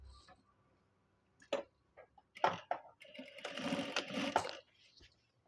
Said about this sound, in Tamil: இப்போ சேலை ஓரம் அடிக்கிறது காமிக்க போகிறேன், எப்படி அடிக்கணும் அப்படின்னு.